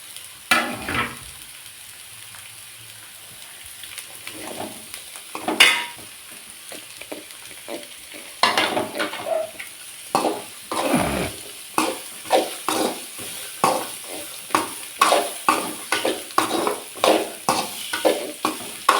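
Beetroot stir-fried in a pan for a Tamil-style poriyal, with a steady sizzle under repeated scraping and stirring strokes that grow louder and more rhythmic in the second half; no talking.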